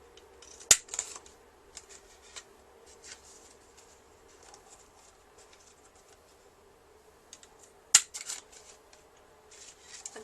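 A corner punch or scissors rounds the corners of a paper card with two sharp crisp snips and soft clicks, with light paper handling and rustling in between, close and quiet.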